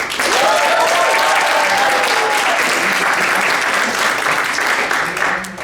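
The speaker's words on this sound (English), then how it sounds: "can we give a round of applause to the CHG hospitality team for all their support?" A crowd at a guild induction and chapter presentation event claps in loud, sustained applause with a few whoops early on, tapering slightly near the end.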